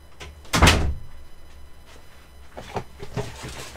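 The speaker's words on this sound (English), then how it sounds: "Hold on, I'm gonna close my door so the sound doesn't echo through it." A room door swings shut with one loud close thud near the start, followed by softer knocks and handling noises, close by and with no talking.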